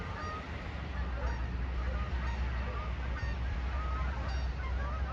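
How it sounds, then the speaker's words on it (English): Many geese honk repeatedly overhead, a busy chorus of calls over a low rumbling background, with no talking. "we got geese flying overhead"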